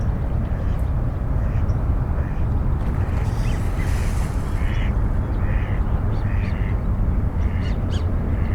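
Scattered duck quacks in an early-morning riparian preserve over a steady loud rush of wind or water noise, the calls faint and intermittent in the second half.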